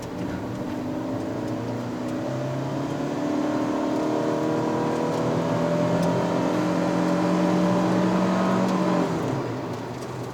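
A 2022 Proton Persona 1.6 Standard CVT accelerating uphill on the Genting climb in Malaysia. From inside the cabin, the engine drone rises steadily in pitch and loudness with no talking.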